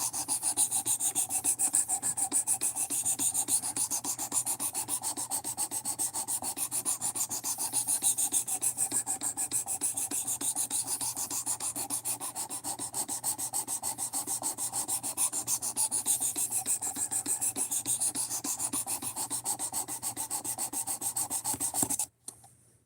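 A blade is rubbed steadily back and forth on a 400 grit sharpening stone in a continuous, rapid, even rasping that carries on for over twenty seconds at close range, then stops abruptly. No one speaks.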